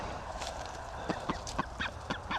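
Free-range duck calling near a lake, a series of short honking quacks repeating at irregular intervals over steady outdoor background noise, fairly close.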